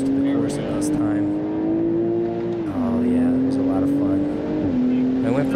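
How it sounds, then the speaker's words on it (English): A BMW Z4 is driven hard on an outdoor track, its engine droning loudly and continuously near the listener, with the pitch holding, dipping on shifts and climbing again, and no speech over it. "I wanted you guys to experience some of the sound here, being in the open air driving."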